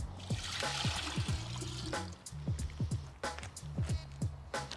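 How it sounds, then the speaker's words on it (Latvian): Water is poured into a vase, splashing and trickling unevenly, with scattered drips and gurgles close by and no voices. "Tāpēc ieliesim šajā vāzē ūdeni, iemērksim dvieli un pastīsimies, cik daudz tas ir spējīgs uzsūkt ūdens."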